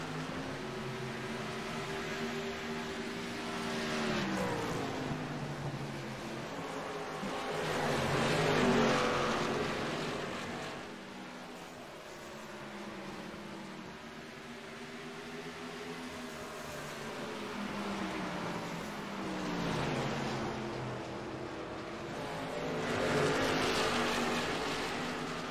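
Stock cars from the Xfinity Series lapping Iowa Speedway in a racing video game, engines droning steadily with rising and falling pitch as revs build and drop through the corners, loud and continuous with no talk.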